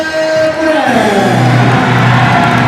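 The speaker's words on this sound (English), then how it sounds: "Big time crowd in here tonight, as we love to see it." Crowd noise fills a high school boys basketball gym before a South Laurel versus Corbin game, a steady loud roar of voices with a few whoops and shouts rising from the stands.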